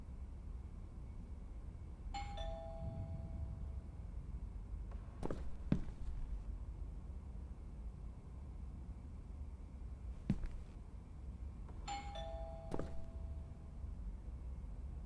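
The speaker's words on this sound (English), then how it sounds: "I should just ring the doorbell, see if he answers." A two-tone doorbell chime in the horror video game Within rings twice, well apart, against a quiet low ambient hum, with a few soft thuds and footsteps between the chimes.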